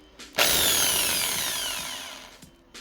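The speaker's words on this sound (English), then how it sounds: "There's the drill." A power drill with a 4mm bit spins up into a Hot Wheels Honda CRX die-cast car, giving one sustained high whine with the pitch sliding slowly down before the drill stops.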